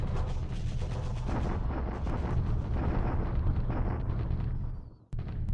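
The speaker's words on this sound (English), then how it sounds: "Allied bombardment at Clark." A dense, continuous roar of bombardment explosions at Clark Field in a war game rumbles loud and low, with overlapping booms that cut off abruptly near the end before resuming briefly.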